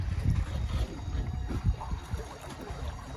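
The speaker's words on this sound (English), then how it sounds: "So I've turned the Torqeedo up to 700, and we're still going at 3 kilometers an hour." Electric outboard motor (Torqeedo) driving a 3-tonne sailing catamaran dead into wind at slow speed, heard as a steady low rumble with water wash and wind buffeting the microphone, no talk.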